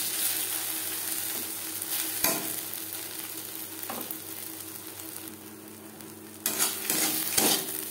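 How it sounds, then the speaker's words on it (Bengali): Arum leaf mash being stirred and dried in a kadai over a low gas flame makes a gentle sizzle with repeated scraping strokes of the spoon, which grow louder near the end. "লো ফ্লেমে 3-4 মিনিট নাড়াচাড়া করে নিয়েছি"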